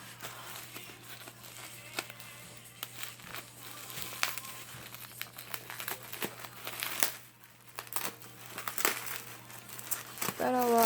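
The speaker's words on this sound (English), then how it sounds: "Trying to like not rip the bubble wrap because I'm trying to save bubble wrap" Bubble wrap crinkling and tearing as it is pulled off a package during an unboxing, quiet close rustles and sharp crackles in irregular bursts, with a voice talking over parts of it.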